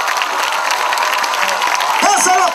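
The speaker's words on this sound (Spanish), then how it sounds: "Dale el aplauso a Cristo." Church congregation applauding loudly during a lively sermon, a dense wash of clapping with a preacher's voice shouting over it.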